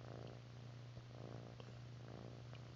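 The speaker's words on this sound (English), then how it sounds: "I don't know if you guys can hear him purring," A cat purrs softly and steadily, close but faint, a continuous low rumbling motor with slight breathing rhythm and no talk.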